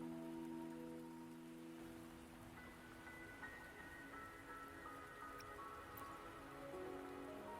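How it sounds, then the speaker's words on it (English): Very faint rain patters softly beneath sustained musical tones, a quiet, even drizzle throughout, in the video game Wuthering Waves on PS5. "Don't worry, the rain won't last much longer."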